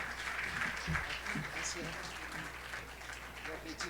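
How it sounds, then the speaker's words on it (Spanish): A church congregation applauds together, a steady wash of clapping with voices calling out over it throughout. "¿Por qué no le damos ese aplauso más fuerte al Señor Jesús nuevamente?"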